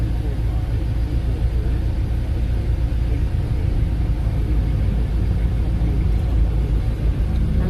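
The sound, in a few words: road traffic heard from inside a vehicle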